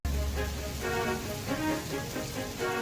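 Steady rain falls from a children's train story soundtrack, a soft continuous patter on surfaces with a faint tonal layer of background music beneath it and no talk.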